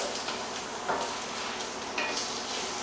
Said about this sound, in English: we'll turn the heat up to high and we will render the fat out of the chorizo